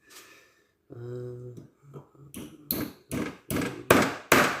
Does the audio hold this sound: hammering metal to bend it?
yes